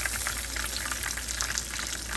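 Crispy cream rolls fry in hot oil in a pan, giving a dense, even crackling sizzle that runs loud and unbroken throughout.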